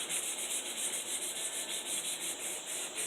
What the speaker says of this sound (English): I just start taking out all them rough grind marks from that belt grinder